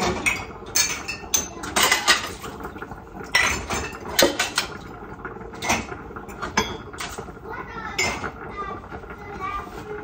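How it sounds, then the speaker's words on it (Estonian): Dishes loaded by hand into a dishwasher at home, giving irregular clinks, clatters and rattles of plates and cutlery in bursts, close and fairly loud, with a rack creaking and sliding in between. "Panen ise nõudekast."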